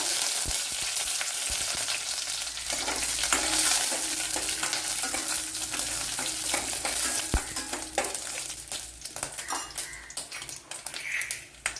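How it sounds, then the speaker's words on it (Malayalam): Dried red chillies and mustard seeds in a tablespoon of hot oil, a steady close sizzle with crackling pops and occasional metallic clinks of utensil against pan, no talking. "ഇവിടെ 1 ടേബിൾ സ്പൂൺ ഓയിൽ ഒഴിച്ചു കൊടുത്തിട്ടുണ്ട്, കടുക് കൊടുത്തിട്ടുണ്ട്. ഇതിലേക്ക് വറ്റൽമുളക് ഇട്ട് കൊടുക്കുക."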